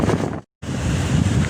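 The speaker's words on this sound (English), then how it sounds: "It is extraordinarily windy here." Strong wind blasts outdoors, a loud continuous roar buffeting the microphone, broken by a brief moment of silence before the gusts resume.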